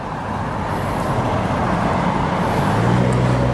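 Traffic at the Q43 bus terminal in Eastern Queens: a steady, dense roadway rumble with idling engines and passing vehicles, a faint high hiss drifting in and out, and a lower engine drone swelling near the end, with no voices.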